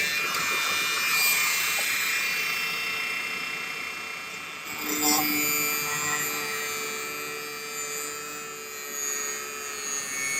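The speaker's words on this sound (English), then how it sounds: "So I guess we need to go saw this out." Fine, rapid rasping of a jeweler's saw with a 00 blade cutting silver, steady strokes with a thin, high edge, close to the microphone and without talk.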